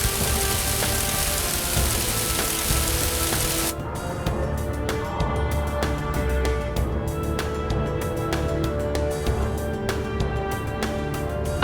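Rain falls as a dense continuous patter with distinct drip ticks, loud and close for several seconds before turning slightly duller and more spaced out, with no voices.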